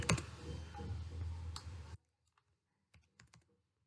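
A computer mouse clicks in structural design software for a tall building project. After a dense burst of noise, a few sharp, sparse clicks follow in near silence.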